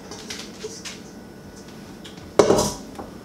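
Chopped celery, carrots and onions drop into oil in a soup pot with one loud clattering splash, sizzling briefly under faint kitchen noise.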